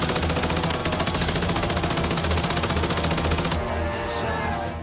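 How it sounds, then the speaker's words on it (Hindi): Sustained rapid gunfire from Taliban fighters shooting into the air at night rattles continuously, dense and loud, bursts running together for several seconds with an outdoor crowd-like wash underneath. "तालिबानी हवा में गोलियां बरसा रहे हैं।"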